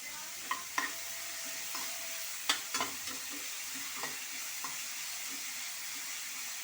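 Vegetables for vegetable manchurian frying lightly in a pan, a soft steady sizzle with a few faint clicks and taps of stirring, quiet and close.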